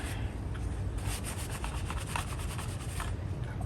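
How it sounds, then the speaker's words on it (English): Rapid scrubbing rubs across the plastic case of a yellowed Schauer B4612 battery charger during cleaning, a close, steady rasping with no talk. "So let's clean this thing first, get this, see what it looks like after we clean it."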